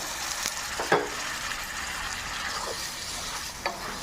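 Boiled goat tripe frying in masala in a pan, a soft continuous sizzle broken by a few clinking stirs of a spoon, fairly quiet and close.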